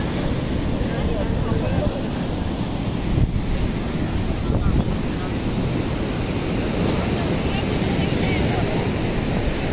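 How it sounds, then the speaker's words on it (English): Steady roar of ocean surf breaking on Calangute Beach, Goa, continuous and fairly loud, with wind buffeting the microphone throughout. "You can hear the sound of the waves crashing"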